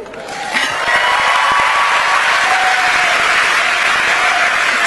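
A large audience applauds Meghan Markle's speech in Manchester, the clapping rising within the first second into a loud, dense, sustained roar of hands with faint cheers mixed in.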